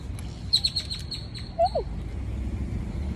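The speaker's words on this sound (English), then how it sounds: "Oh my God, that bird just came for me." A bird gives a quick series of high chirps followed by a single lower, swooping call, close and fairly loud over a low background hum.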